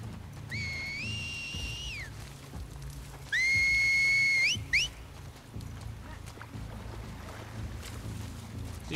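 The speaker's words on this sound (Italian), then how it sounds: "Forse è il fischio che fanno quando l'allerta per loro è passata." Enemies in The Last of Us Part II whistle a signal: two sustained, rising tonal whistles and a short third one, over a steady low rumble of wind and ambience.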